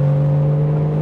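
2015 Porsche 911 Carrera GTS (991) with a naturally aspirated engine and seven-speed PDK gearbox, a loud steady droning engine note held for about a second.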